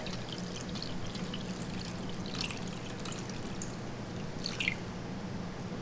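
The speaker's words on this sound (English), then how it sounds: "And we're adding the 350 mils of water." Measured water, about 350 ml, poured onto sugar in a container to make a thin syrup: a soft, quiet pouring trickle with a few light splashy drips, no talking.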